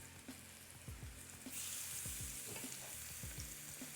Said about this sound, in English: Now I'm going to add in my pork chops